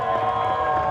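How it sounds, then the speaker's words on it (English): Esports arena crowd at DreamHack Denver 2017 cheering for Optic Gaming, season champions, a dense sustained roar of voices filling the hall at steady loudness for a brief moment. "Come on, let's make a big cheer for your full season champions"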